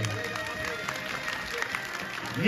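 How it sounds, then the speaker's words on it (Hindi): Audience applause at a Shrimad Bhagavat Katha religious discourse in Purola: steady, moderately loud clapping from a crowd sustained throughout, with a louder swell at the very end. "करतल ध्वनि बजिए, तालियां बजनी चाहिए।"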